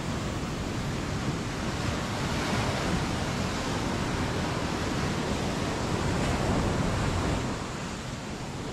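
Surf rolls onto Wediombo beach, a half-circle bay on the Indonesian coast, as a broad, continuous wash of breaking waves that stays loud and even throughout, easing slightly near the end.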